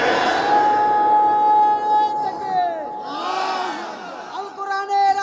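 Large outdoor rally crowd chanting in answer to a Nara-e-Takbir call, a loud massed shout mixed with amplified voices and echo, swelling and dropping over a few seconds.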